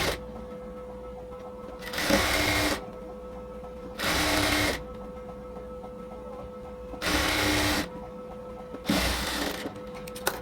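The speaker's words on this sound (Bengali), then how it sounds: "ফোল্ডিং করে সেলাই করে নিচ্ছি।" Sewing machine stitching a folded sleeve hem in four short whirring bursts separated by pauses, close and clear over a faint steady hum.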